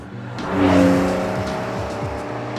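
A new 2022 Porsche 911 GTS sports car drives past nearby, its engine note swelling loudly then easing off into a steady mechanical hum, with a faint tyre hiss and no talking.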